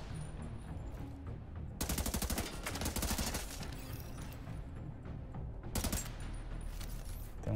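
Rapid automatic gunfire from The Division 2 video game comes in two loud bursts of quick repeated shots, separated by quieter stretches of background game sound.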